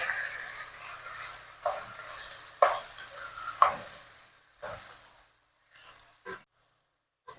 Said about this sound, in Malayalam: ഒരു കയ്യിലത് ഒന്ന് ഇളക്കി കൊടുക്കാം